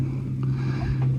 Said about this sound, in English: that droning of an outboard, God knows how many miles away